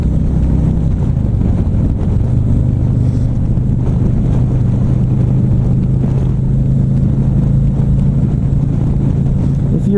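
A 2017 Harley-Davidson Ultra Limited motorcycle pulls hard in third gear, a loud, constant low engine drone heard up close with heavy wind buffeting over it throughout.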